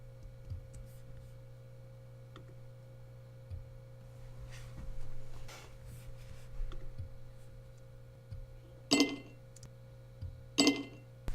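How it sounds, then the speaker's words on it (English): Two sharp glassy clinks near the end, like a whiskey shot glass being set down on a hard surface, after a few softer taps over a steady background hum. "now I need the glass setting down"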